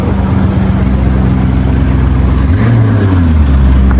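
A Lamborghini Urus, in Mansory form, passing on a London street, a loud steady engine and road rumble with a rising low tone as it moves off near the listener.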